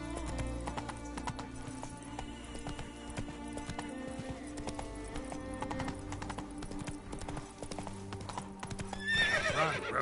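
In The Witcher 3, a horse gallops with steady, rhythmic clip-clop hoofbeats, and near the end it gives a loud neigh over the running, all alone without talk.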